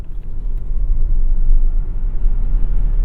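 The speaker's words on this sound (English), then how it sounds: "listen to this when I get on the throttle hard" A Tesla Model X under hard acceleration, heard from inside the cabin as a steady, loud low road and driveline rumble with little else above it.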